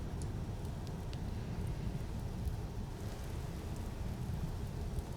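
Steady rainfall in the survival game Vintage Story, a dense even hiss of falling drops with a low rumbling undertone, constant and unbroken throughout, with no talk.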